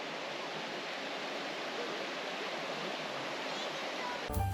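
Steady rushing water from Barnes Creek, a forested stream in the Pacific Northwest, a continuous broad hiss at moderate level, ending with a brief bump.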